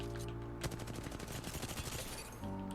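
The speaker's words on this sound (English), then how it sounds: "try to land all your shots together" Rapid automatic gunfire from weapons in Apex Legends, a steady burst of close, loud shots running almost the whole time with no talking.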